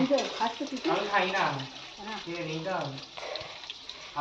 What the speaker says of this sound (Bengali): দেখো এই যে কুচেটাকে এখন ভাজছে